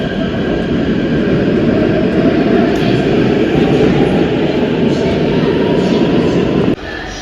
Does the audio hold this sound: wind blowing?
no